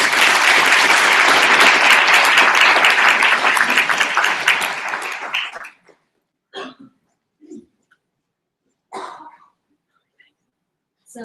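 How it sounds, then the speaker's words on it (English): An open-house crowd applauds loudly and steadily for several seconds before the clapping fades out, followed by a few scattered coughs and throat-clearing sounds in a quiet room. "please give a warm applause as the angels take over"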